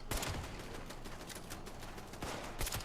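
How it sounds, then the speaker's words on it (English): Distant gunfire in the video game Fallout 76: quiet bursts of rapid shots, a cluster at the start and another near the end, with a low rumbling bed in between. "What are they shooting at?"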